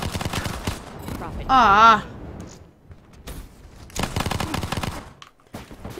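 Shotgun fire in the Call of Duty Black Ops III video game crackles in repeated bursts, loud in places, with a player's voice and in-game chatter over and between the shots.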